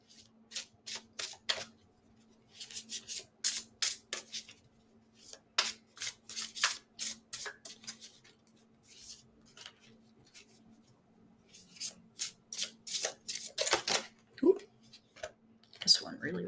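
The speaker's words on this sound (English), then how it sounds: "that's shuffling for pile number 1" Tarot cards riffled and shuffled by hand during a reading, rapid bursts of crisp flicking and slapping in uneven clusters, close and moderately quiet, with a faint steady hum underneath.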